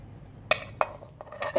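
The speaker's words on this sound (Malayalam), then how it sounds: "ഒരു മിക്സിയുടെ ജാറിലോട്ട് നമ്മുടെ ചക്കക്കുരു ചേർത്ത് കൊടുക്കാം" Jackfruit seeds dropped into a mixer grinder jar, a few sharp hard clinks and rattles at irregular intervals, close and fairly quiet against a still background.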